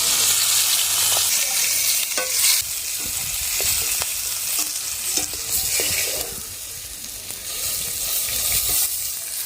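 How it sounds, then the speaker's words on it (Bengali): Rohu fish pieces frying lightly in a pan of hot oil give a loud, steady sizzle with scattered pops and occasional spatula scrapes, no voices. "মাছটা একটু হালকা করে ভেজে নেব, খুব বেশি ভাজবো না।"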